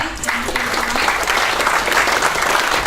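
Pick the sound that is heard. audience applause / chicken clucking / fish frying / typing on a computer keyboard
audience applause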